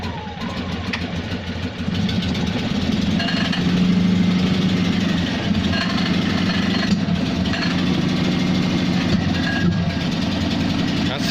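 A small single-cylinder Invacar engine fires up on full choke and keeps running, a steady loud mechanical chug and rattle that rises after about two seconds and settles into a rough, uneven idle.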